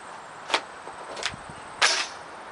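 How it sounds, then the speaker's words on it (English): A rifle bolt pulled to the rear, heard as a few short, fairly close metallic clicks and a sharper final snap, with no talking. "I'm gonna first pull the bolt to the rear here, and that way once I get my magazine in,"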